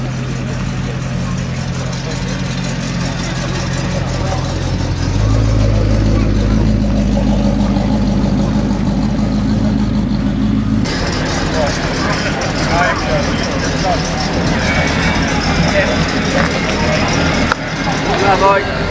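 A classic Ford Model A at a Cars and Coffee meet idles with a low, steady engine rumble and then swells louder, while people talk nearby over the running motor.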